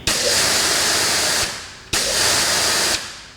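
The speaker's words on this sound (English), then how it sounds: "So we're getting immediate power, immediate water spray." An Adam's Pro Series electric pressure washer sprays water in two loud hissing bursts, each about a second and a half long, separated by a brief pause, close to the listener with no talking.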